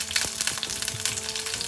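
Peeled garlic and green chilies sizzle steadily in hot oil for a South Indian onion tomato chutney, a close, continuous crackling frying sound with small pops and no talking.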